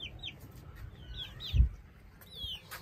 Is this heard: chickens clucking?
yes